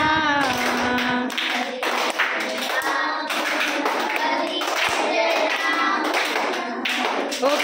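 Rhythmic hand clapping keeps time with a group singing a devotional chant, the claps sounding as sharp, regular beats under the voices.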